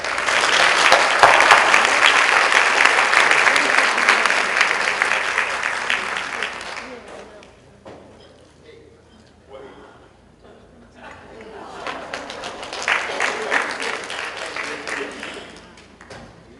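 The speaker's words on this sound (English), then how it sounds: "Give him a round of applause for it." Loud, dense audience applause for a speaker at a 2013 FHSA training conference, fading briefly before swelling again, with a spoken voice in the lull.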